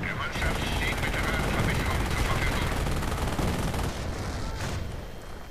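Hummel self-propelled artillery fires during a World War II strategy game battle, heavy booming volleys and rattling gunfire rolling continuously and loudly through the whole stretch, dense and sustained.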